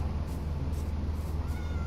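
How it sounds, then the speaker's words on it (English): A cat meows in the Minecraft video game, heard over a steady low background hum with faint repeated cries and no talking. "There's the cat."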